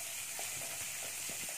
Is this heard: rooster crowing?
no